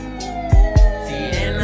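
A siren sound effect woven into a slowed Latin rap song, rising in short wailing bursts over the beat and bass thumps.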